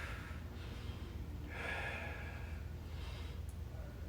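Several audible breaths, soft bursts of air at irregular intervals, close and fairly quiet over a low background hum during a stick mobility workout class.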